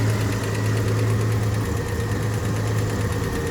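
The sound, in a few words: hot rod car engine idling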